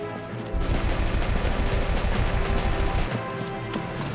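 Rapid automatic gunfire rattles loudly and continuously for about two and a half seconds in the Valkyria Chronicles strategy game, then cuts off.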